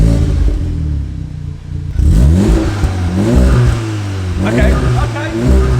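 A VW Golf R exhaust with valves revs up and settles several times at close range, a deep rumbling engine rising and falling, with a brief spoken word over it.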